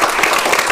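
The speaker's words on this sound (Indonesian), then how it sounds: "Tepuk tangan untuk kakak mentor." An audience at a school drama festival claps for the mentors, a loud, dense burst of applause in a brief snatch.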